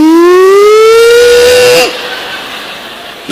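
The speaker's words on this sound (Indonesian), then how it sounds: "sirine nu ngaheong mah imsak" A loud siren sounds the imsak signal during Ramadan, its tone rising and holding in a strong wail before cutting off abruptly, leaving a quiet fading tail.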